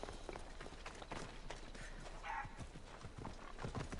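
Quick rhythmic hoofbeats of a galloping horse in Assassin's Creed Odyssey clatter along with a brief whinny, steady and fairly close, with no talking.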